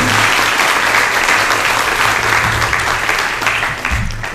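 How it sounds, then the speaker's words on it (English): Loud, close applause from an audience at a business incubator pitch night honoring coaches and mentors, dense continuous clapping over a low steady hum, thinning slightly near the end. "I'd like you to give them a big round of applause, our coaches and our mentors."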